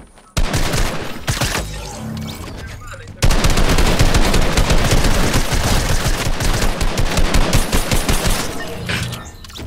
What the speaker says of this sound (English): You want me to shoot them?